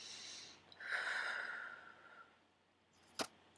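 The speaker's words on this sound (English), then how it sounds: "take a breath." A single audible breath, taken close during a calm tapping session: a soft intake and then a longer airy exhale, followed by a brief sharp click, with no talking.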